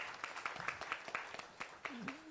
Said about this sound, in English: Round of applause for Eric Musyoka.